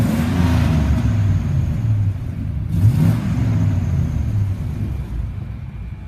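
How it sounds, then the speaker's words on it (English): Engine of a 1999 Chevrolet 3500 work truck revving, a steady low rumble that swells slightly mid-clip, heard up close and alone for about six seconds. "let me rev it up for you"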